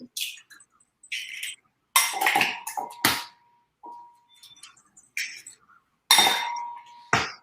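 Three eggs cracked and dropped into a glass bowl in a home kitchen during almond flour cookie prep, giving sharp glassy clinks and taps in separate bursts with quiet gaps between, close and clear.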